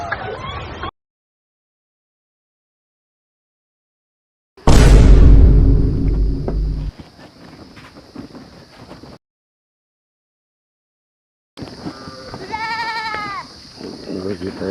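A goat bleats in a rural village comedy scene: short, loud, wavering bleats come in separate bursts with silent gaps, alongside a heavy thump and other rustic noise.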